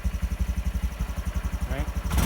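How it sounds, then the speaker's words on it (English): A Honda Trail125 motorcycle engine idles at about 1400 RPM, a steady rapid low thumping pulse heard close, with a brief blip near the end. "the idle speed is 1400 RPMs, give or take 100"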